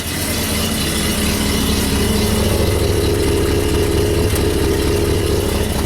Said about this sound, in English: It's got such a low idle. I love the idle on the 460. How throaty it is.